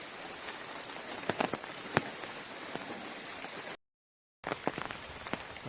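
Heavy rain patters steadily on surfaces around a house and yard with scattered louder drops, continuous and close, broken by a short gap of silence.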